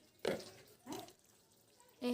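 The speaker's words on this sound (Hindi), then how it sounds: "अब कुकरी धो ले वो।" Chicken pieces are rinsed in water in a home kitchen, with a few short splashes and sloshes heard close and faint, separated by quiet pauses.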